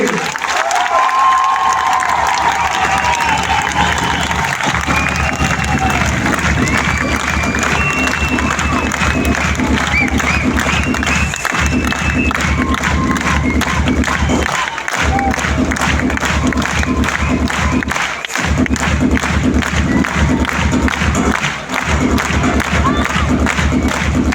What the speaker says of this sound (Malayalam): കയ്യടി കയ്യടി